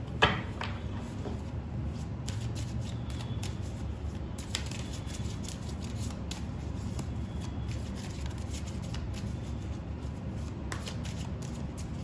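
Steady, continuous riffling and sliding of tarot cards being shuffled by hand, close and fairly loud over a constant low room hum, with no talk.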